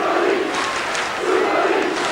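A rugby league stadium crowd at a Leeds versus St Helens Premiership playoff chanting in unison, a loud, dense roar with a swelling rhythmic chant that carries on without a break.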